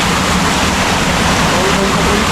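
Water rushes steadily and loudly at Kawa Kawa falls, a dense, unbroken roar close by with no pauses.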